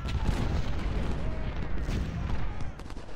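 Cannons and musket volleys boom and crackle across a Civil War battlefield in the Ultimate General: Civil War strategy game, with dense, rumbling gunfire rolling continuously throughout.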